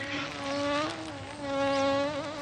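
A bee buzzes close by, a steady droning hum that swells and fades twice as it moves around, with no voices.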